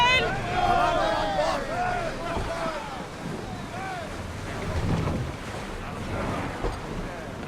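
A sailing ship sets out from harbor onto open sea in Assassin's Creed Odyssey, with steady wind, rushing waves and creaking hull sounds beneath shouted crew voices throughout.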